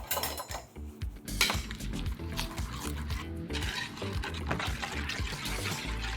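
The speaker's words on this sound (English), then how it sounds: "Now pour that onto your chicken." Buttermilk trickles and pours onto chicken amid clinking dishes and utensils, close by, with steady kitchen clatter throughout and no talking.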